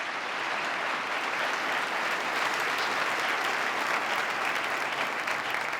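An audience applauds at a governor's public address outlining his 2018 agenda, with dense, steady clapping from a large crowd that holds at full strength throughout and has no speech over it.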